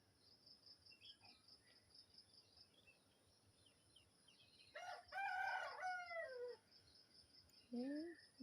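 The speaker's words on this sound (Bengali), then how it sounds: "মুরগি ডাক দিছে।" A rooster crows loudly and nearby, one long call partway through, followed by a shorter cluck-like call, over a faint steady chirring of crickets in a quiet rural setting.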